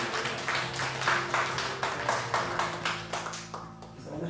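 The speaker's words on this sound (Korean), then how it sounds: "수고하신 모든 분들께 박수 한번 할까요?" A congregation claps together at a Korean church's Sunday worship service, a fairly soft, rhythmic patter of hands over a low, steady tonal hum.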